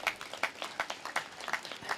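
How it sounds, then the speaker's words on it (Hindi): An outdoor audience at a gathering claps in loose bursts, fairly close, with separate slaps forming an uneven rhythm of roughly half a dozen swells over a couple of seconds. "आप जो धूप में बैठे उनके लिए जोरदार ताली बजा दो"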